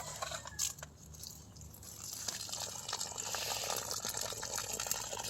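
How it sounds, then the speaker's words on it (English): Water running steadily from a tap during a flow check in January, a continuous hiss building and holding after a brief opening clatter, fairly faint and with no voices. "I'm going to go ahead and turn the water on here so you can see what kind of flow it has right now."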